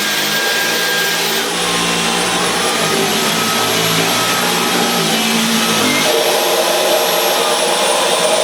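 A Dyson V11 Absolute cordless vacuum cleaner runs steadily with a loud, high-pitched whine, its motor tone shifting slightly partway through as it moves across carpet.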